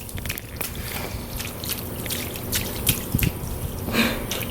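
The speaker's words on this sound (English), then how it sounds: "Azariah helps me water all of these plants." Water splashes and drips near a garden as a child waters plants in a DIY raised bed, with irregular light splatters and a few sharper splashes at close range.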